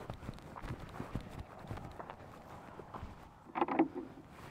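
Farm animals, a donkey among them, come up for feed with faint, irregular hoof clip-clops on the ground, quiet and a little distant, with a brief louder scuffle near the end.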